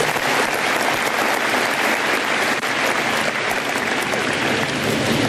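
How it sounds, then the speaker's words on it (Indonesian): Seminar audience in an indoor hall giving a round of applause for a former student called to the front, a thick continuous patter of many hands without a break. "Tepuk tangan buat Arifin."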